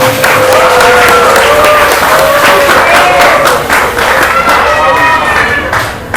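Classmates applaud a tenth-grade boarding-school student at an open exam on reading classical Islamic texts, a loud burst of clapping mixed with overlapping voices and chanting.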